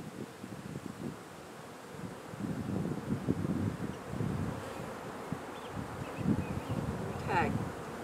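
Honey bees swarm around an open hive during a beekeeping class, a dense, steady buzz filling the air close to the microphone, with light wind and rustling beneath it.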